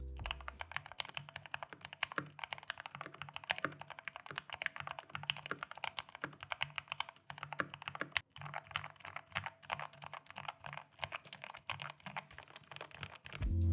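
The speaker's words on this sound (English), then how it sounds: "this is how our modded K630 sounds like with the pudding keycaps" Rapid, continuous typing on a modded Logitech K630 keyboard fitted with pudding keycaps, close and clear, dense irregular clacks with no voices.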